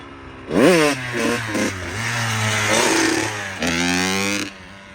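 A motorcycle engine revs hard during a beginner's wheelie attempt, with several sharp rising throttle blips followed by longer sustained high revs and a final burst before it drops back. It is close and loud, and no one speaks.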